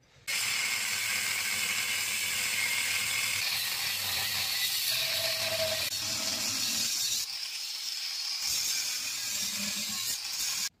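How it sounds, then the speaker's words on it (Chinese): An old refrigerator compressor's steel shell is cut open along its weld seam, giving a loud, continuous grinding whine with shifting pitch and brief dips, steady for about ten seconds with no talk. "沿着焊接线给它嘎开就可以了。"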